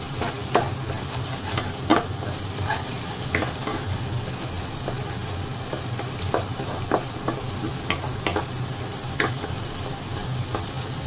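Plain Chinese rice being stir-fried into fried rice in a home kitchen, a soft continuous sizzle broken by irregular scraping clacks of the spatula against the pan.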